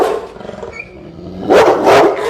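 An adult dog gives a couple of loud close barks near the end after a quieter stretch of low background noise.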